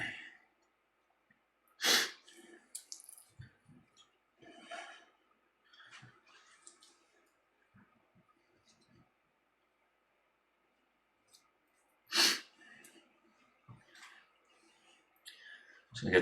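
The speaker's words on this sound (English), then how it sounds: "So I got the sniffles and I got a cough." A person with a cold and a cough sniffles quietly at a kitchen counter while trimming a brisket for smoking, with two sharper, louder sniffs standing out among soft breaths and near-silence.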